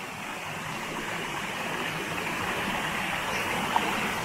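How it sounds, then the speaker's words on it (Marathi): A fast monsoon-fed stream in the Konkan countryside rushes steadily, a continuous even wash of flowing water with no other sounds. "पाणी एकदम जोरदार प्रवाह आहे इकडचा"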